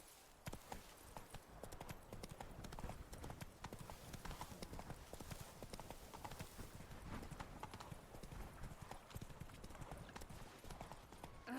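Horse hooves in The Witcher 3: Blood and Wine beat in a steady rapid clip-clop gallop, close and continuous throughout, with faint background ambience and no talk.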